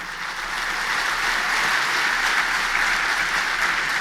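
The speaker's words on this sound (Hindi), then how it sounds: "ताली तो बजा दी आपने" A large crowd at a youth convention in Sikkim claps continuously, a thick, even wash of hands that stays loud and unbroken throughout with no talk.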